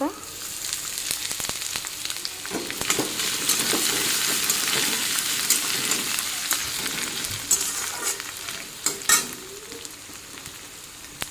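Chopped ginger and nuts sizzle steadily in a hot pan of oil, with a spoon scraping and clinking against the pan as they are stirred.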